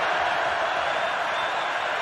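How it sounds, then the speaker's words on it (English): A sold-out stadium crowd at the Music City Bowl college football game between Purdue and Tennessee in 2021 makes a steady, distant roar that fills the whole moment without any break. "Sold out crowd."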